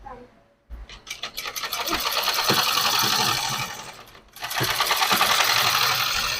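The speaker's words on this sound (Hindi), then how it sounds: "तो मैं इसको पूरा सिल लेती हूँ, बंद कर देती हूँ इसका।" Sewing machine stitching the fabric of a six-panel palazzo, a close rattling whir that starts after a short pause, runs steadily, halts briefly and resumes, loud and alone.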